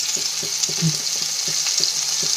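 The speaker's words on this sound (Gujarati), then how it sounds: "જીરું સંતળાઈ જાય એટલે ચપટીક આપણે હિંગ એડ કરીશું" Cumin, asafoetida and chopped hot green chili frying in a pan, with a soft continuous sizzle and regular scraping stirs at a steady rhythm, fairly quiet and close.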